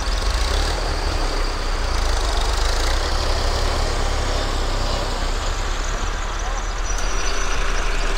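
Tractor engine running at steady load while silage is made on a farm, a loud continuous diesel rumble and drone close by, with speech over it at times.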